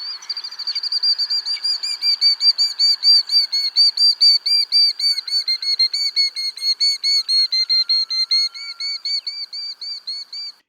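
A disturbed killdeer gives a rapid, continuous series of shrill, high whistled notes, close and clear, repeating steadily for about ten seconds with no other sounds.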